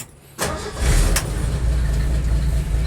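A Ford inline-six engine in a garage cranks with a short burst and catches, settling into a loud, steady low rumble close by.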